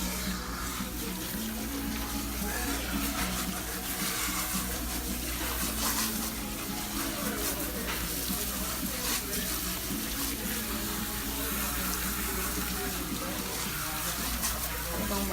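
Water runs steadily from a tap or shower onto hair during a wash with clarifying shampoo at a salon. The gushing is continuous and fairly loud throughout, with faint voices under it.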